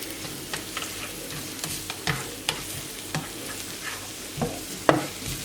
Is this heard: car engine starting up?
no